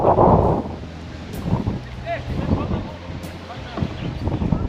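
Steady wind buffets the microphone with a low rumble and gusty hiss, heavy at the start and continuing throughout.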